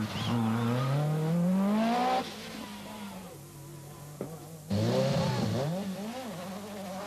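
Henri Toivonen's Lancia rally car leaves the start of a stage at the 1986 Rally of Portugal, its engine revving hard through rising gears, easing off, then roaring loudly back up close by.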